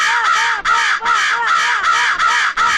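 A crow caws repeatedly in a steady rhythm, about six loud, harsh calls close by with short gaps between them and no other sounds.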